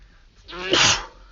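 A single close human sneeze, a short breathy intake followed by a loud explosive burst that fades quickly.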